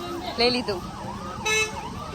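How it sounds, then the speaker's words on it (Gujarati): An ambulance siren wails in repeated rising and falling sweeps, fairly distant under a steady traffic hum, while people talk over it. "એમ્બ્યુલન્સ."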